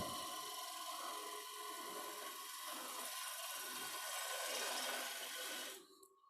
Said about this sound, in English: let me just stop the lathe there